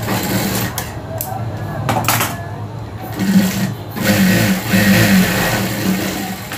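Sewing machine stitching a blouse, running in steady bursts of mechanical whirring at close range, with some background noise and brief pauses between runs.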